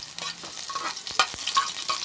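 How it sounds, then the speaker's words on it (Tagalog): Garlic hits hot oil in a pot for Filipino chicken tinola, giving a bright crackling sizzle with a few sharp spatter pops and light stirring, no voices over it. "lalagay na natin itong bawang sa tinola"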